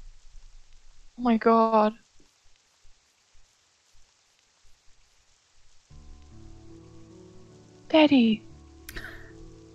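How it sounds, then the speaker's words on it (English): Soft, steady rainfall patters in The Witch's House horror game, faint under short spoken exclamations. Low sustained music tones join in partway through. "It's raining."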